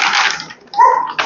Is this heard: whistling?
no